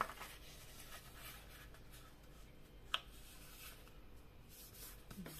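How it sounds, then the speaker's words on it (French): Diagonal fold lines are scored on paper for a pop-up diamond card: faint, soft scratching strokes close by in a quiet room, with one brief sharp tick midway. "on va marquer les plis de la diagonale, bien évidemment"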